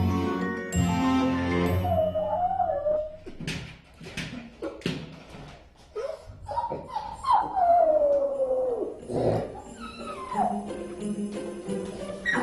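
A dog left home alone howls and whimpers in long wavering, rising and falling cries, close and loud, broken by short yips and a faint jingle.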